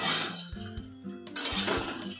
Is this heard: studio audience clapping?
no